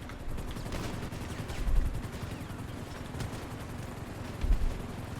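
Gunfire in the GTA video game, a dense run of rapid shots with a couple of heavier bursts, steady and moderately loud throughout.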